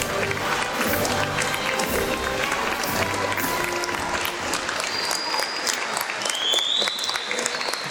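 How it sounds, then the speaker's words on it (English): Sustained applause from an audience at a Veterans Day program, steady and dense clapping filling the room for the whole stretch, with a faint murmur of voices beneath. "Let's stand and give these wonderful people another round of applause"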